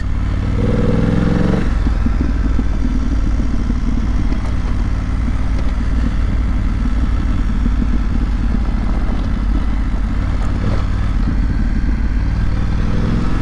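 A 2025 BMW F900GS motorcycle engine chugs steadily at low revs on a mountain road, a loud, continuous near rumble with light mechanical clatter and no speech.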